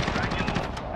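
Sustained light machine gun fire in Modern Warfare on the Shoot House map, a dense continuous rattle filling the moment with a voice faintly underneath.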